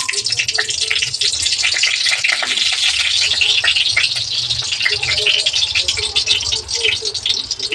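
Food frying in ghee, a loud, close, dense crackling sizzle with rattling stirring throughout, while a voice murmurs faintly beneath.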